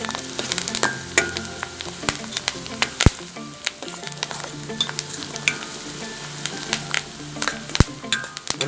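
Chopped dried red chillies sizzle and fry in oil in a pan, with a steady crackling hiss punctuated by sharp pops and occasional stirring clinks, close and alone without talk.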